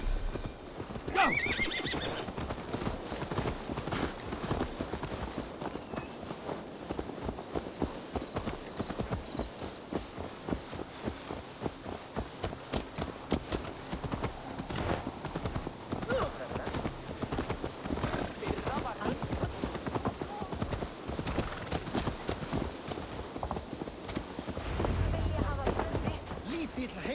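A horse in Assassin's Creed Valhalla whinnies and gallops, steady clip-clop hoofbeats running throughout at moderate loudness, with a neigh early on and game dialogue spoken over the hoofbeats.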